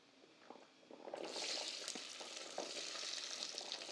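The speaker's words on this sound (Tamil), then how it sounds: "இப்போ ஃபுல்லாக உரித்து வச்சுருக்கிற வெங்காயத்தை எல்லாம் சேர்த்துக்கலாம்." Peeled shallots dropped into hot oil in a clay pot, starting with a few soft taps and then swelling into a steady, bright sizzle of frying that continues to the end, close and alone.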